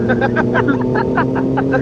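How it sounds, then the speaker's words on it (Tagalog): A Kawasaki ZH2 motorcycle engine revs in quick, pulsing bursts over a steady running drone, loud and close, on a breakfast ride toward Calatagan, Batangas. "Hingal na yung makina, sinasagat lang na ito ni Rodel. Nakadalawang ikot na yung throttle eh"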